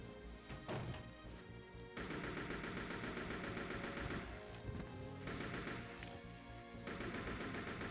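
AK rifle fire in the video game Resident Evil Code Veronica X, loud bursts of rapid automatic shots in several volleys amid crashing impacts and game sounds, with no voice.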